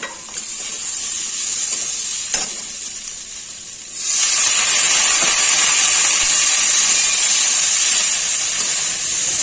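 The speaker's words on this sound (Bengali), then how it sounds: "আলুর সাথে সুন্দরভাবে কষিয়ে নিব।" Fried potatoes added to soybeans in spices and sautéed in a pan, a close sizzle that jumps sharply louder midway into a strong steady hiss, with light stirring and no speech.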